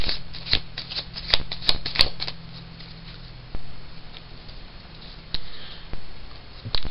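A deck of playing cards is shuffled by hand during a card trick: close, crisp riffling bursts and quick flicks come in uneven clusters, with short pauses between them.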